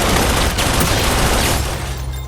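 Shotgun gunfire in a video game roars as a loud, continuous fusillade of overlapping blasts that fades slightly toward the end, with no voices over it.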